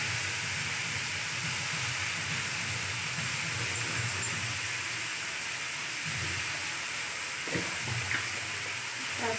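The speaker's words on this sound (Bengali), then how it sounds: "আলুগুলো একটু ভেজে নেব, আর দিয়ে দেবো একটু নুন।" Potatoes frying in a pan over a medium gas flame, a continuous hissing sizzle that holds steady and close for several seconds, with a few faint clinks near the end and no talk.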